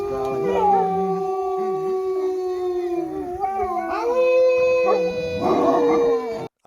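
Loud, sustained howling from a group of wolves, long overlapping wails rising and falling close by, with a human voice joining in to imitate them. A bark or yip and a brief whimper break in near the middle.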